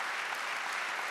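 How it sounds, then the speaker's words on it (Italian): Loud, dense applause fills a brief moment at an award ceremony for social-economy innovation, with many hands clapping steadily and no talk. "Sì, applausi forti."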